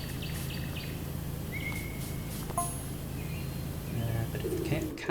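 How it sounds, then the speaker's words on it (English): Ambient birdsong in the video game PowerWash Simulator: pigeons or doves coo low and steady while scattered chirps and tweets flit above, all set against a constant outdoor background. "they've got ambient noise, like the birds"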